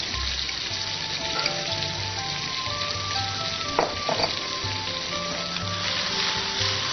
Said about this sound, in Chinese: 加入一点点糖，来，我们再炒一炒它